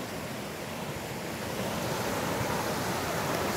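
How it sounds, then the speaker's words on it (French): A river flows close by, producing a steady broadband rush of water. The sound holds constant and fairly loud throughout, with no speech over it. "Il y a la rivière derrière."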